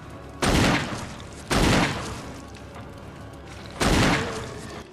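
Hand cannon gunfire aimed at a monster in the video game Resident Evil HD: three loud, booming shots spaced over a few seconds, each with a sharp blast and a short decaying tail, and no talking.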